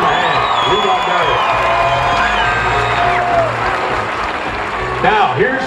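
A rodeo crowd at the Cassia County Rodeo applauds and whoops for a cowboy, a continuous wash of cheering from the stands heard under an announcer's voice.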